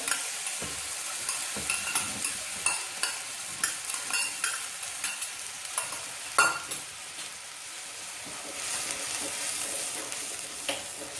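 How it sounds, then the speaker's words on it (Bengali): A spice mix with ghee and curd is stirred in a pan over a low flame for dahi arbi, making soft, repeated scraping strokes over a quiet sizzle, close by and without talk. "এইভাবে ঘিয়ের সঙ্গে মশলাটা মিশিয়ে দিতে হবে"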